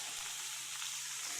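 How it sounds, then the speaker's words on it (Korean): Steady crackling sizzle of eggplant deep-frying in hot oil, continuous and fairly quiet, with no voices. "지금 튀겨지고 있거든요"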